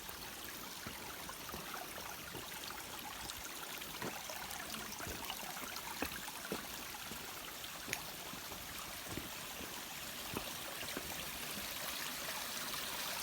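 Water from the Chim Yai waterfall in Phetchabun, Thailand, flows and trickles over small rocky steps, a faint, continuous hiss with scattered soft splashes and no voices.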